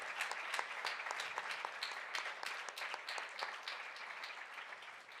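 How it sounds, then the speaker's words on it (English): Congregation applause at a Sunday devotional program, a steady dense patter of many hands clapping together, moderately distant and sustained without a break. "Please, can we give him a round of applause again?"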